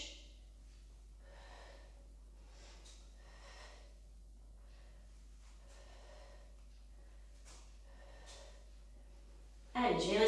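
Someone breathes in through the nose and out through the mouth during an exercise workout, a series of soft, evenly spaced breaths, faint and close, ending with a louder burst.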